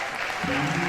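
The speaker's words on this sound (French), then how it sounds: "Est-ce qu'on peut applaudir, s'il vous plaît?" An audience at a formal ceremony breaks into steady applause, a dense wash of many hands clapping, with a voice briefly heard through it.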